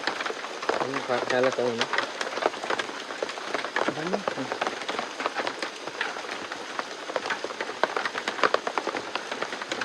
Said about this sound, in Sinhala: කාලා බලලා අපි දැන් යන්න ඕන මේ හොඳටම වැස්ස.